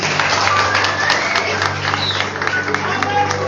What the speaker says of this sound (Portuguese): Leva eles lá, aplauda Jesus.